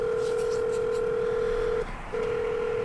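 Telephone tone from dialing a call on a phone, a clear steady electronic tone that holds, cuts out briefly, then resumes, alone and fairly loud.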